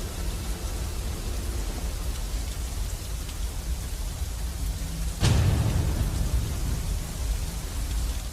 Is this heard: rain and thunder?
yes